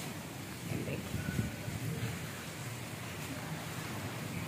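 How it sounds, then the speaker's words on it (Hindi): Heavy, unexpected summer rain falling steadily, a dense hiss of broadband noise with slight swells, fairly close and continuous throughout. "बहुत तेज़ बारिश, अनएक्सपेक्टेड बारिश"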